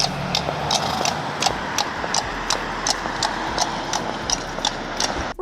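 Horse hooves clip-clop in a steady even rhythm, a horse-drawn cart moving along at a walk, fairly close and clear above a low rolling background.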